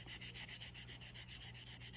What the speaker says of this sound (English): so I'm just going to sand it with the 1500